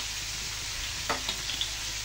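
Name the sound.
chicken feet sizzling in pan after soy sauce and vinegar added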